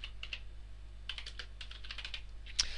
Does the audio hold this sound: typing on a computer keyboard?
yes